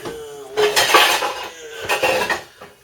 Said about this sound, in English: And I'm going to throw a lid on it.